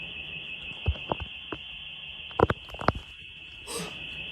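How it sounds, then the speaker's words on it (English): A steady, high-pitched electronic alarm blares continuously inside a house, with scattered knocks and bumps sounding over it and a brief breathy noise near the end. "As the alarm blares, panic quickly sets in."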